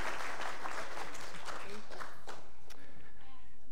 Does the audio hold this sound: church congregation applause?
yes